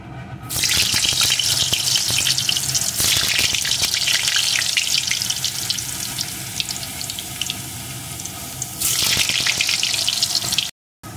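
Cut potato pieces fry in hot mustard oil in a kadai, a loud, close, continuous roaring sizzle that fades a little midway, then surges again before cutting off near the end.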